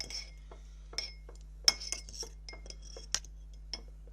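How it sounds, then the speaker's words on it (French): A slime mixture is stirred in a bowl with a utensil, making scattered light clinks and taps against the bowl at irregular intervals, with soft scraping between them and no talking. "Maintenant tu peux mélanger. Vas-y, mélange, mélange, mélange."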